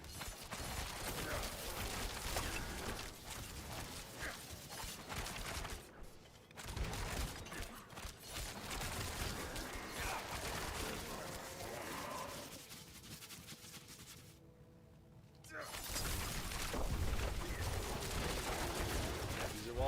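A cluster of grenades bursts after a character's dodge in the Diablo 4 video game, a dense barrage of popping explosions and mechanical clatter with short lulls between volleys, under game effects and faint voices.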